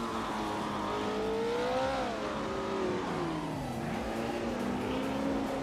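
A vintage 1968 Porsche 909 Bergspider racing engine drones steadily in a race, its pitch sweeping up and down through gear changes, loud and continuous with no talk.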